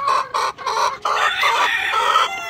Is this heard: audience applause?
no